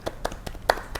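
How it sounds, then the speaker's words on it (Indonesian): Several distinct hand claps, sparse and irregular, ring out close and sharp in a podcast studio, a few separate slaps rather than full applause. "keren banget tepuk tangan."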